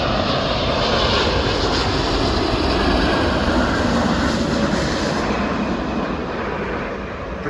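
An airliner comes in to land at London Heathrow, its engines a loud, steady jet roar that fades slightly toward the end, with no voices.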